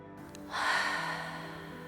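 A slow, breathy exhale through the mouth during a yoga breathing practice rises softly and then trails off gradually, close and quiet with no talk over it.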